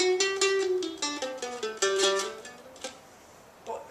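Mandolin plays a lesson melody with quick picked notes stepping downward and hitting the low G twice, fairly close and clean, then fading into quiet with a brief strum at the end.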